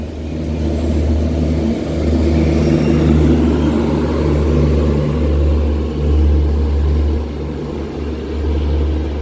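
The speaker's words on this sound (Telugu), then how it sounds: "మన తిరుమల ఎక్స్ప్రెస్ మొట్టమొదటిసారిగా తాడిపత్రి రైల్వే స్టేషన్కి వచ్చిందండి" The Tirumala Express pulls into Tadipatri railway station with a loud, steady engine rumble and deep droning tones that hold throughout, with no voices.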